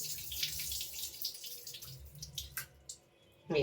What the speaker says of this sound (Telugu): ఇవి నీళ్ళు అంపేసి మళ్ళీ వేరే నీళ్ళు పోసుకోండి వేడి